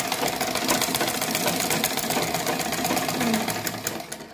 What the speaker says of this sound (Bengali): তো ডিয়ার অডিয়েন্স, আমরা এখন একটি ফেব্রিক্স বা একটি কাপড় সেলাই করব।